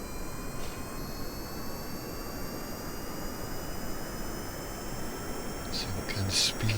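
A jet engine in the Kerbal Space Program video game throttles up to a steady roar with a rising whine, close and continuous, and a voice is faintly audible near the end.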